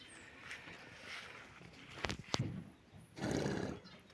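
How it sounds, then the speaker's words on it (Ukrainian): A mare whinnies and snorts at close range, short bursts of breathy noise over a quiet outdoor background, no clear talking. "Така кобила кобила Каріна"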